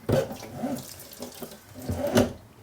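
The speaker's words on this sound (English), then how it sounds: "And the faucet." Kitchen faucet in an RV running into a double sink, a soft steady water flow with splashy swells near the start and again toward the end, close and moderate in level.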